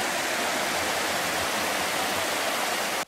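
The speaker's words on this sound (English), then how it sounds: "Water gushing from a broken pipe." Water gushes from a broken pipe in Central Oahu, producing a loud, steady, broadband roar like a waterfall that continues without a break until it cuts off abruptly at the end.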